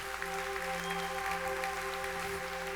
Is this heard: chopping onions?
no